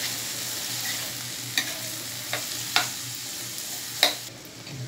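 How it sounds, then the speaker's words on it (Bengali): Chopped snake beans stirred with onion and egg in a pan, a soft steady sizzle under a few sharp clacks of the spatula against the pan. "এখন এই পেঁয়াজ আর ডিমের সাথে আমি এই বরবটির কুচিগুলোকে ভালো করে মিশিয়ে"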